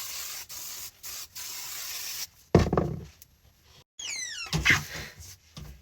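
Several short, close hissing spray bursts of oil shine hair spray from a pump bottle, followed by some soft knocking and rustling handling sounds.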